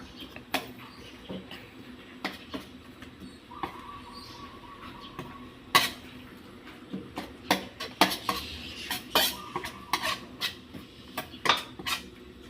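Mushrooms stir-fried in a pan, a spatula clattering and scraping against the metal in irregular bursts, quiet and close, with faint background hum and no speech.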